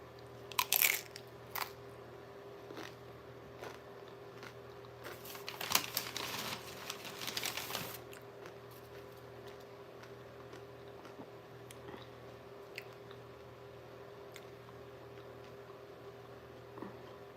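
Someone eats a Chipotle burrito bowl of rice, lettuce, steak, guacamole, black beans and pico, with close crunching and chewing, a dense burst of crinkling packaging in the middle and quiet scattered bites around it.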